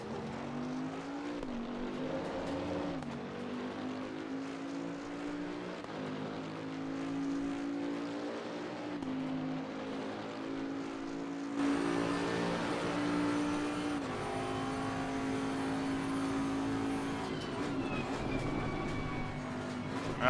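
A Bentley GT3 race car in Assetto Corsa Competizione at Suzuka, engine held at full throttle: a steady, rising in-car engine drone with shifting pitch, a brief blip, and a louder, harsher surge partway through, with no talk.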